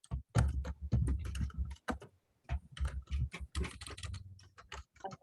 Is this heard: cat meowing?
no